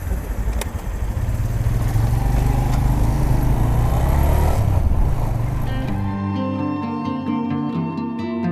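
A motorcycle engine drones loud and close on a road trip in Pakistan, running steadily before easing into a lower idle-like hum near the end.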